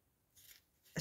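Scissors trim a small strip off the edge of decorative craft paper, giving two brief soft snips close by in a quiet room, the second one sharper and louder.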